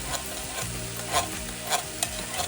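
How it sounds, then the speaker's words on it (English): Gravy is scraped into a hot pan with browned lamb for a St. Patrick's Day feast, giving a close sizzle under repeated scraping and stirring strokes, with a few sharper clinks, and no talking. "We're just going to put the gravy in. You want to scrape out as much as you can."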